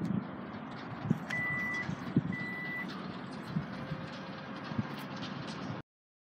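A 2017 Hyundai Santa Fe XL power liftgate sounds two evenly spaced high warning beeps over a constant background hum and faint thumps, ending abruptly.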